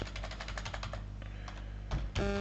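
Rapid, even keystrokes patter on a computer keyboard during a basic computer workshop, a quick run of close clicks that slows and thins out, followed by a couple of louder thumps near the end.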